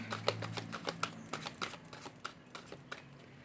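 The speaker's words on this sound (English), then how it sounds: "I'm going to just finish this shuffle out." Quiet, rapid papery flicks and soft taps repeat nearby as a deck of cards is shuffled, the rhythm uneven and gradually thinning out.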